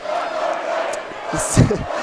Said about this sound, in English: we hear some chants here from the crowd